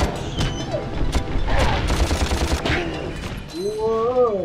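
Fully automatic gunfire in the Ratchet and Clank game, a dense rapid burst of shots and impacts with booms layered in, loud and continuous for several seconds before tailing into whooshing effects.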